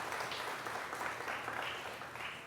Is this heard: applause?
yes